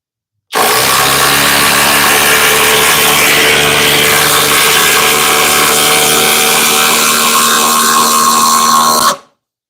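Cordless impact driver, one of a Harbor Freight, Flex, DeWalt or Milwaukee lineup, sinking a 7 to 8 inch lag screw, a loud, continuous rapid hammering rattle running nearly nine seconds before stopping abruptly.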